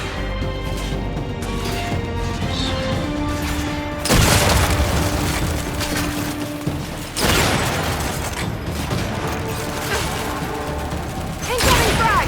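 Frag grenade blasts in the Gears 5 video game, two or three heavy booms breaking over a droning mechanical background, loud and close, with brief voices around them.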